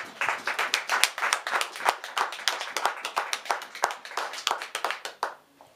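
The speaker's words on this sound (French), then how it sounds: "est-ce qu'on peut acclamer la parole de Dieu?" A church congregation applauds together at a French-language sermon, a steady run of dense clapping that swells and falls in waves for several seconds before trailing off near the end.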